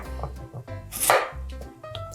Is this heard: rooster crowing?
no